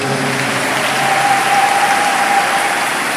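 A church congregation applauds throughout, steady and dense clapping from a large crowd filling the room, loud and continuous with no voices standing out.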